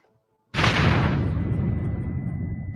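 Sudden loud explosive blast of video game gunfire and explosions in a Wild West shootout, erupting after a brief silence and rolling on as a dense, sustained roar of booms and shots.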